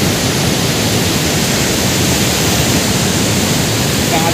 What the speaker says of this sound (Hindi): तो फिलहाल मेरे पीछे हैं पूरा शिवनाथ नदी